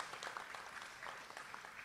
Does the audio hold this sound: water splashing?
no